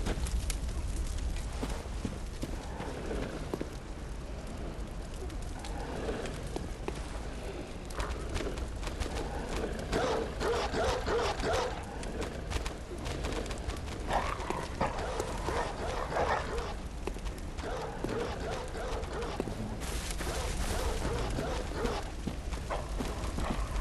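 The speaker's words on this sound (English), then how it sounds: "Yes, Puppy, are you able to walk through the fires okay" A dog in the video game Bloodborne barks and whimpers amid dense, continuous game noise that keeps the sound busy and layered throughout.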